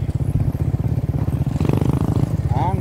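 Motorcycle riding slowly over a bumpy, potholed road, its engine putting out a loud pulsing throb close by while a voice talks over it.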